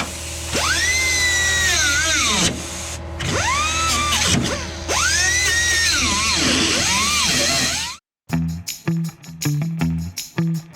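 Metal grinding on the rocker area of a 1958 Plymouth body restored as the Christine movie car: several close spin-ups with a rising whine, then a brief silence followed by choppy, uneven grinding bursts.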